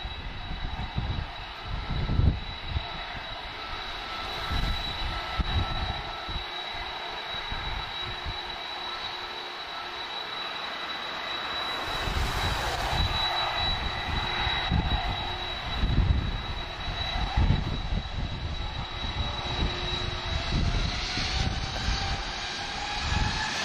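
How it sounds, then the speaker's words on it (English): A Boeing 767 jet taxis at Lisbon Airport, its engines producing a steady distant whine and rumble that carries on without pause, with faint scattered thumps and background noise. "Okay, 767 on the move."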